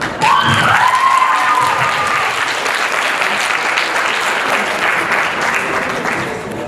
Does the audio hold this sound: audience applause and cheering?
yes